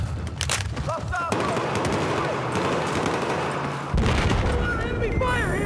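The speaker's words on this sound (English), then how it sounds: "Enemy fire" Dense enemy gunfire in Battlefield 4 on the Dragon Valley map: rapid automatic bursts and booming shots crackle nearly nonstop and fairly loud, with a heavier volley near the end.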